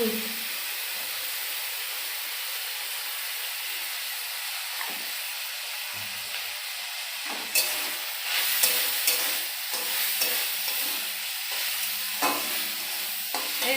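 Fish fries in hot oil with salt and turmeric while it is stirred. A steady hiss of sizzling runs throughout, and clatters and scrapes of stirring grow louder toward the end.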